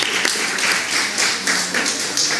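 A crowd at a 55th anniversary reunion breaks into applause: dense, fairly close clapping that swells in repeated bursts.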